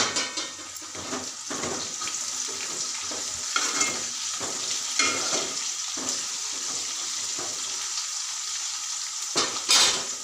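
Garlic and green chilies sizzle steadily in hot oil in a pan, with repeated scraping stirs of a spatula against the metal throughout.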